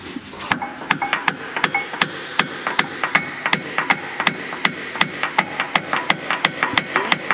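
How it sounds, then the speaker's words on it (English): A small hammer taps a thread tap into a Dresser IH TD-25G bulldozer track frame being repaired, about twenty sharp metallic strikes in a fairly steady rhythm, close and distinct over a low background hum. "You need a little hammer to tap your tap?"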